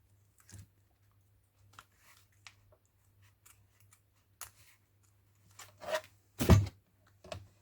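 Scissors snip during a craft session, a scattering of short, sharp cuts spaced out at first and then coming closer together with one louder snip near the end, heard alone in a quiet room.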